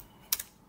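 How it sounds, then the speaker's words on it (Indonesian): A single quick keystroke on a computer keyboard while entering a table name in phpMyAdmin, a short sharp click close by in an otherwise quiet room. "Kemudian kita mengetik nama tabel nama tabel yang kita inginkan."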